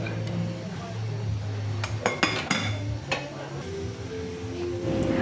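A lid clatters onto a cooking pot of sinigang, fish soup with tambakol, giving a few quick metallic clinks and knocks in the middle over a low simmering hum.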